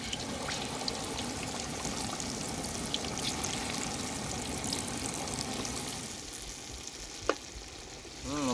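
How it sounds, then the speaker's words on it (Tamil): Big boneless chicken 65 pieces deep-fry in groundnut oil with a dense, continuous bubbling sizzle close by, easing slightly near the end with a faint clink. "அப்படியே ஒரு பெரட்டு பெரட்டி நம்ம சிக்ஸ்டி ஃபைவ் மாதிரி போட்டு எண்ணெயில் போட்டு பொறிச்சு எடுக்க போகிறோம்"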